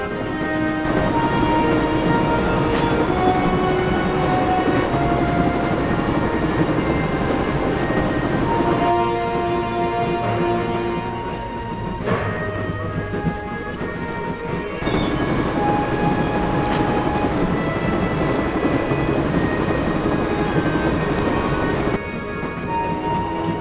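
A moving train rumbles along in the video game Broken Sword II, a constant loud rolling clatter with squealing wheels and metallic whines, heard alone without speech.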